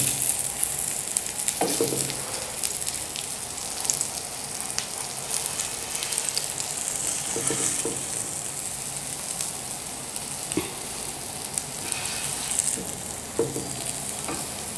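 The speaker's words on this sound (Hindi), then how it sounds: "कबाब दोनों तरफ से फ्राई हो गए" Potato kebabs shallow-fry in light oil, producing a loud, continuous dense crackle with scattered pops and spatters throughout.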